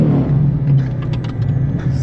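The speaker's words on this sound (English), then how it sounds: "Let's do a little quick burnout." A boosted Ford Mustang Foxbody with a Gen3 10R80 transmission rumbles loud and close during a burnout, a steady deep engine drone with slight revving swells and no talk.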